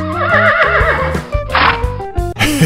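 A horse whinnies in a long wavering neigh over lively background music, followed by a few shorter bursts of sound.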